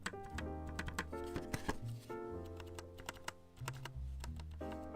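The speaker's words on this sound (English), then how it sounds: "Tell me if this sounds weird, but can you hear the spacebar?" Spacebar and keys of a handwired ScottoAlp mechanical keyboard being typed on, giving a steady run of close, crisp clicks and thocks with no rattle, under sustained background music.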